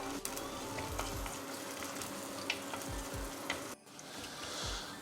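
Small onions and dried red chillies fry in hot oil for rasam, a constant close sizzle with scraping stirs and a few low knocks of the utensil against the pan, no voices.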